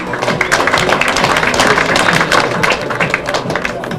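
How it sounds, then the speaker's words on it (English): An audience at a 1998 Australian TV comedy performance breaks into a loud, dense round of applause that fills the whole stretch, with scattered clapping texture and no voices on top. "let's give this girl a big round of applause."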